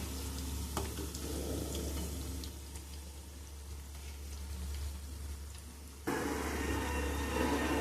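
Urad dal vadas frying in oil in a pan as they are flipped one by one, a soft continuous sizzle with small scrapes and clicks, then louder bubbling once turned.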